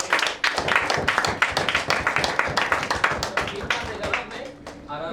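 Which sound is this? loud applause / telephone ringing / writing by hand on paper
loud applause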